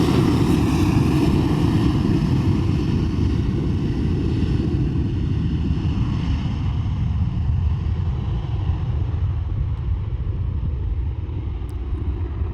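A Jet2 airliner takes off from a runway, a loud, steady broadband engine roar that fills the whole stretch and eases off slightly toward the end.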